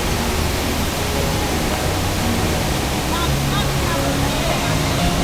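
Steady, loud roar of Vattayi waterfall, a broad continuous rush of falling water heard up close that fills the whole clip without pause.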